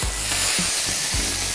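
Steak sizzles loudly in hot oil in a frying pan, giving a constant close crackling hiss with a few dull knocks of the pan underneath.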